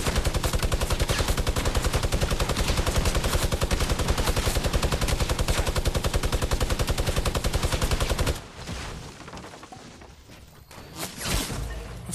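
Rapid, continuous gunfire from the Fortnite battle royale game rattles loud and dense for about eight seconds, then cuts off into quieter game noise with a few scattered thumps.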